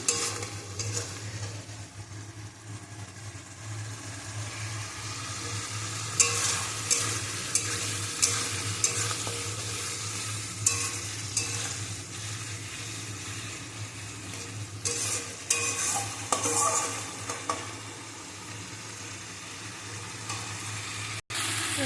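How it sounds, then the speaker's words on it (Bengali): Potatoes and spices for an egg curry stir-fried in a pan: a steady sizzle runs throughout, with repeated scraping strokes of a spatula and bursts of louder frying. "দেখো এখানে যে মশলাটা আমি কষিয়ে নিচ্ছি ডিমের ঝোলে"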